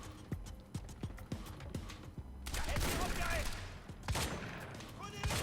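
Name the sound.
shotgun gunfire in the video game Quantum Break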